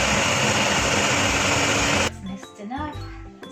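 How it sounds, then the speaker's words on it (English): A food processor blending a dairy-free pumpkin mousse mixture gives a loud, steady whirring roar up close for two seconds, then cuts off abruptly, leaving quieter clatter and a voice talking. "So we add it here into our food processor and we're going to mix it all together, blend it all together"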